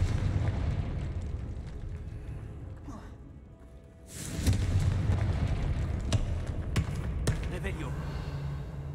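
A Confringo fire-blast spell bursts in Hogwarts Legacy, a loud whooshing explosion that surges in after a brief lull, followed by crackling debris and rumbling game ambience with someone speaking over it.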